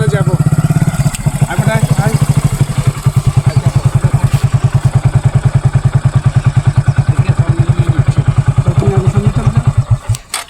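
Motorcycle ridden along a rough footpath, a loud close engine with a steady rapid pulsing thump throughout, jolts and clatter from the bumpy ground, and a voice talking over it.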